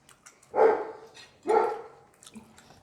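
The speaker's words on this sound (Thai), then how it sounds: "ไม่งั้นก็จะเห่าแบบนี้ค่ะ" A dog barks outdoors in two loud, separate bursts about a second apart, with a quieter yip trailing at the end and no talking.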